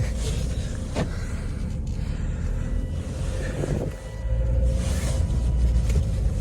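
Inside a Volvo S diesel car with about 98,000 km on it during a test drive, a low engine and road rumble drones steadily, with wind noise and occasional soft clicks and thumps, with no talking.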